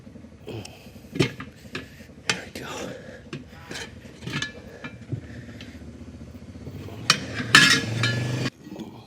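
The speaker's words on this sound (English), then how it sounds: "Slide this spoon in, not too deep." A metal tire spoon prying a trailer tire off its rim, with a series of close scraping, clinking metal strokes at irregular intervals building to a longer grinding rasp near the end.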